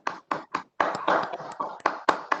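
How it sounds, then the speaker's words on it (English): A single participant claps into a microphone during an online webinar, a handful of sharp, close claps in a slightly irregular rhythm with brief gaps between them, heard alone without talk. "we should give a big applause to the DCGI office and the Health Ministry"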